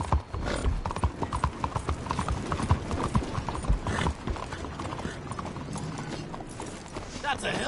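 Horse hooves clip-clop steadily and close by in the Red Dead Redemption 2 video game, a brisk rhythmic trot over a busy background of game ambience, with a brief whinny-like sound in places.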